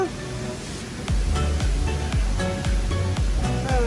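A waterfall in Bener Meriah rushes steadily in a broad, constant roar, with a series of repeated low thumps sounding over it at fairly regular intervals.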